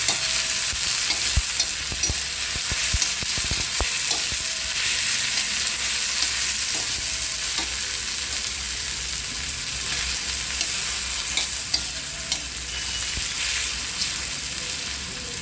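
Onion and tomato fry in a pan for a cheesy egg chutney, a continuous close sizzle with sharp spoon scrapes and taps of stirring near the start, no one speaking.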